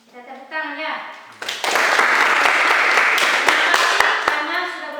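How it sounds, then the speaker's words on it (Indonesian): Classroom applause from students during an electronics lesson on tone-control circuits, a dense burst of clapping that starts after a brief spoken lead-in, holds steady for a few seconds, then thins out as talking resumes. "Kita tepuk tangan ya."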